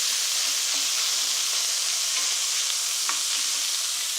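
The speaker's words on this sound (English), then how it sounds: "What I'm interested in is getting a little bit of browning on the meat." Meat browns in a pan with a steady, even sizzle and hiss, close and unbroken, with faint ticks of spattering fat.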